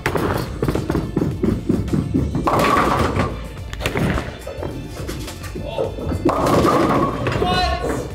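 Heavy bowling ball striking pins at a bowling alley, sharp clattering crashes with rolling rumble between, loud and close amid background chatter.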